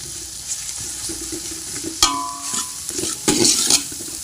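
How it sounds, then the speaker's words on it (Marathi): Wet coconut paste frying with onion for Kolhapuri misal, a close sizzle with spatula stirring, a metallic clink partway through and louder scraping bursts toward the end. "ओलं खोबरं हे एक भक्कलचं आहे बघा, हे पेस्ट करून घेतलेले आहे, हे याच्यामध्ये घालायचे. ह्याला आपण व्यवस्थित भाजून घ्यायचंय"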